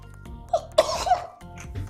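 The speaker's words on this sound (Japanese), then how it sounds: "くしゃみ。" A single sharp sneeze bursts out near the microphone indoors, a brief explosive gasp-and-release over a quiet background hum.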